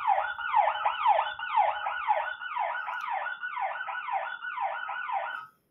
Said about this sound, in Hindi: इस तरह से सायरन बजता रहेगा